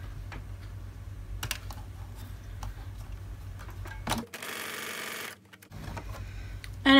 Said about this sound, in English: Line up the edges. And start stitching.